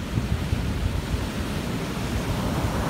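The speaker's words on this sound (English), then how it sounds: "The waves are getting bigger and darker." Ocean waves and surf roll in steadily, a broad wash of crashing water with some wind buffeting the microphone and no voices.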